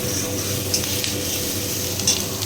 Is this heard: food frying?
yes